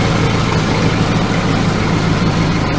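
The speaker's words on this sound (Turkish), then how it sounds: "Motora bak. motor, bak, motor sallanıyor böyle." A boat's engine idles steadily and loud at close range, a continuous low rumble with the motor shaking, on a sailing trip in Göcek at Hamam Koyu.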